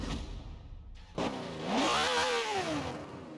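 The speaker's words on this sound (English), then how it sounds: "this is just your standard Ferrari V12 Forza Horizon engine sound" A Ferrari 512 S V12 in the Forza Horizon 4 racing game: a brief idle, then the engine revs up sharply, climbing in pitch to a loud, smooth whine before easing back down.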